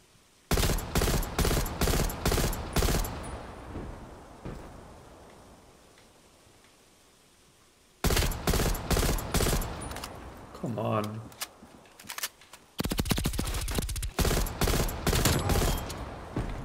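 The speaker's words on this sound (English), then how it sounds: "I'm gonna use the M16 today." Bursts of M16 rifle fire in Call of Duty Black Ops Cold War search-and-destroy play, sharp rapid shots in several clusters separated by a quiet gap, with a brief voice in the middle.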